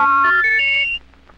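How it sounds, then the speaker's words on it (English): A Mauch Stereotoner reading aid plays a large letter V as a cluster of pure electronic tones that step through pitches and fall away after about a second. "If a large letter V covering all 10 photocells were scanned with a Stereotoner, this would be the sound."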